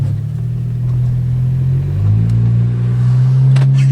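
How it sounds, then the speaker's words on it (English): A car on a frigid winter test drive after CV axle and brake fluid work pulls away with a loud, close engine drone that rises in pitch as it accelerates, steady and unbroken with no one talking. "Time for the test drive in this frigid weather."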